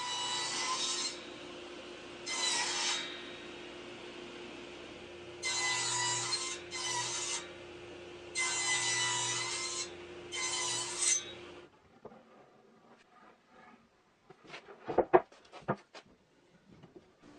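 Finger-joint slots being cut in wood with a power tool guided by a template, several loud, steady bursts of cutting separated by short pauses, then a quieter stretch of knocks and handling noise.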